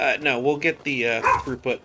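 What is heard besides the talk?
dog barking in the room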